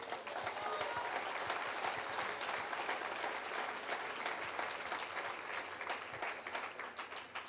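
Steady, dense applause from a church congregation fills the whole stretch at an even level, with no speech over it.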